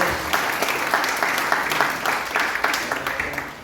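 Loud, sustained applause from a church congregation during a Filipino Jubilee sermon, dense clapping filling the whole stretch at steady volume with no talk over it.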